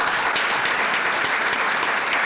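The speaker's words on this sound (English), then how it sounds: "I'd like to give you a huge round of applause" A large audience at an anniversary event in South Africa fills the space with loud, continuous applause, steady and even throughout with no voices over it.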